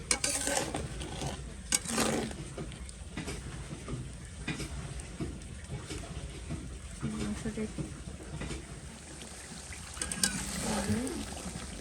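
Spiced meat stir-fried in oil in a pan, with repeated scraping stirs and clanks over a low sizzle, close by, while someone talks intermittently.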